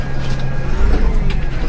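A 2023 Deutz Fahr 5080D Keyline tractor drives in first gear high range, its diesel engine giving a close, steady low rumble with a few faint rattles over it.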